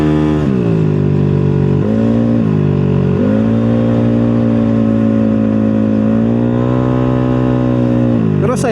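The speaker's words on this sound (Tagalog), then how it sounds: "yung ingay ng motor or yung pipe nito" A motorcycle engine revs up and settles repeatedly, its exhaust pipe giving a loud, throaty drone that rises and falls in pitch, close by.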